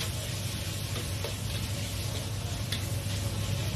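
Cucumber slices with chili stir-fried in a hot wok, a steady close sizzle and crackle of frying that continues evenly, with faint scraping from stirring and no talking.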